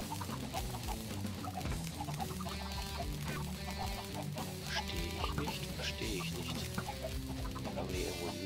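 Soft Minecraft chicken clucks repeat now and then over steady game background music, with no voices, the small bird calls staying faint and intermittent.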